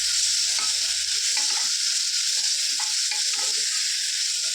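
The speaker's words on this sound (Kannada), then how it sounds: "1 ಟೊಮೆಟೊ ಮತ್ತು ಸ್ವಲ್ಪ ಪುದೀನನ ಹಾಕ್ಕೊಂಡು ಚೆನ್ನಾಗಿ ಮಿಕ್ಸ್ ಮಾಡಿಕೊಂಡು ಟೊಮೆಟೊ ಸಾಫ್ಟ್ ಆಗೋವರೆಗೂ ಫ್ರೈ ಮಾಡ್ಕೊಳ್ಳೋಣ." Tomato and mint stirred and fried in a pan for aloo biryani, with a loud, continuous sizzle and hiss throughout and soft stirring scrapes underneath. No talking.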